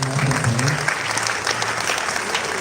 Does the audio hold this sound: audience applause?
yes